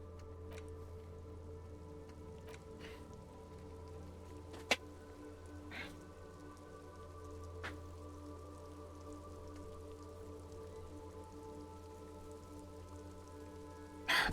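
Steady rain patters in a video game scene, a soft continuous hiss of falling drops with a low hum beneath and a few isolated sharper drips, no voices.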